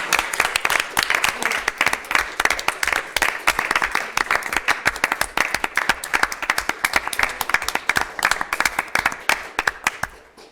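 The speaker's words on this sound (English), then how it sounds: "I would like to just offer this public thank you and a round of applause for all" A room full of people at a public meeting applauds for about ten seconds, with loud, dense, sustained clapping that tapers slightly at the end.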